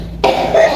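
A person imitates a cough with a single short, harsh voiced burst, close and loud.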